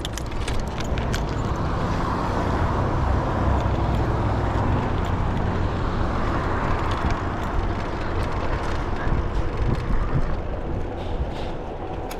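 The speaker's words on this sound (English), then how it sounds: "Watching out for any cross traffic." Passing road traffic at a street crossing, heard from a bicycle, rolls by as a steady broadband roar of cars and heavier vehicles, continuous and fairly close throughout with no voices.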